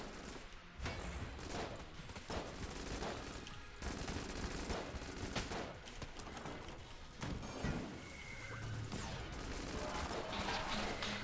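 Dense gunfire from the Heck Blaster in the Enter the Gungeon video game: a continuous rapid barrage of loud shots with crashing impacts and mechanical clatter, alone without talk.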